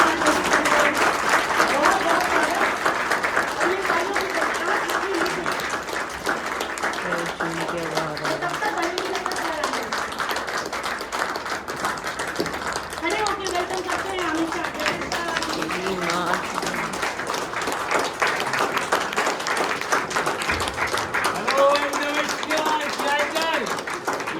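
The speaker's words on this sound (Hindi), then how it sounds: "तालियों से स्वागत करेंगे" Sustained audience applause welcoming a guest speaker at a gathering of Delhi exam aspirants, dense continuous clapping for over twenty seconds with voices speaking over it throughout.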